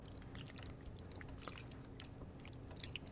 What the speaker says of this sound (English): the uncomfortable sound of thick paint moving plays